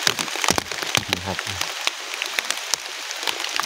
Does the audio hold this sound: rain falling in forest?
yes